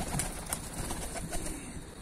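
Quiet, low cooing from kelebek pigeons gathered at feed, a faint soft murmur with a few brief sharper sounds.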